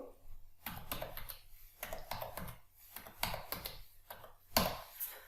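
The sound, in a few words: typing numbers on a computer keyboard in Excel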